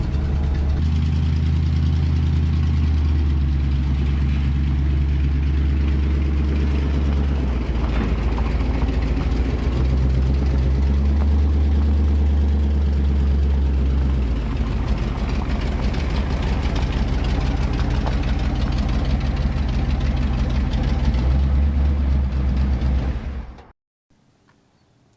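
An old car engine runs steadily while driving, a loud, close low rumble with slight shifts in pitch that holds for most of the stretch and then cuts off abruptly near the end.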